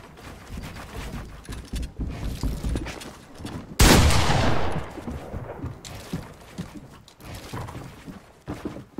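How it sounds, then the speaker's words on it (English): Fortnite gunfire rattles in quick, scattered bursts, with one loud, sharp blast standing out near the middle before the shots thin out again. "Yo, stop shooting my building"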